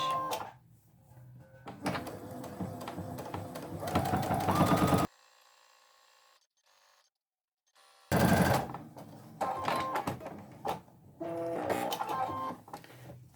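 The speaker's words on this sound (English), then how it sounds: "Same for the other side, top stitch around the edge." A sewing machine top-stitches around the edge of a peg apron in two steady runs of a few seconds each, separated by a brief near-silent pause, fairly close and loud with no talking.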